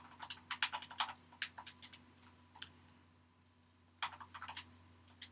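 Computer keyboard typing as a player name is entered in Madden Ultimate Team, quick bursts of close, crisp key clicks, a pause, then another short flurry, with no talk.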